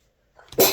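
A single close sneeze, a short breathy intake followed by an abrupt loud burst, in a quiet room.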